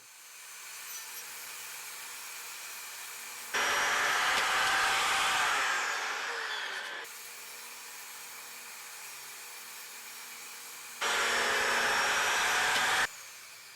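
Two bursts of a power saw ripping through plywood pieces for a workbench top, each lasting a few seconds with a rising whine, separated by a quieter pause of motor hum.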